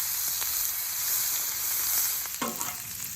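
Bacon sizzles and crackles steadily on a hot griddle, a bright continuous hiss with a brief scrape or stir near the end.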